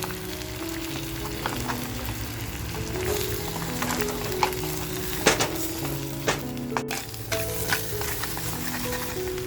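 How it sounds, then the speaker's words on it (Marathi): Crabs fry on a slow flame in a clay pot, making a continuous crackling sizzle with frequent spatter pops and occasional louder knocks and scrapes as they are moved around, close and without speech. "बघा असं छान फ्राय झालंय गॅसची फ्लेम स्लो असल्यामुळे बघा मस्त असं ते व्यवस्थित फ्राय झाले"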